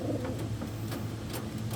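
A tame pigeon coos softly in a low, repeating rhythm, close by and steady, with faint clicks and rustles around it and no talking.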